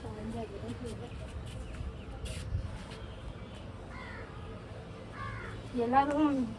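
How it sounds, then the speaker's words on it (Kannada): Crows caw outdoors near a sunny spot strung with wires, a few short hoarse calls rising toward the end over steady background noise. "ಕಾಗೆ ಎಲ್ಲ ಇಲ್ಲೇ ಓಡಾಡ್ತಿದೆ"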